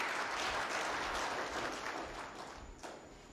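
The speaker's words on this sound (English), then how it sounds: "a better round of applause for Philemon Sabule" Crowd applause at an official event marking IEBC chairperson Chebukati's last day in office, dense and loud at first, then tapering slightly over a few seconds.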